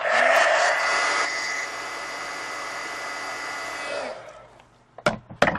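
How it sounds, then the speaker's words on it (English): A heat gun blows a loud, steady roar for about four seconds while drying wet marker ink on a colored page, then cuts off, followed by a few sharp clicks and handling knocks. "So I'm going to dry that here with the heat gun."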